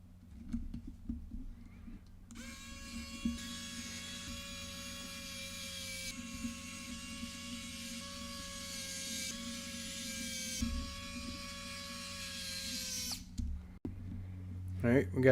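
A powered screwdriver whirs in a series of steady bursts, several seconds each, as fasteners are driven into an Anbernic RG35XX H handheld game console during a screen replacement, with brief pauses between screws and a low background hum.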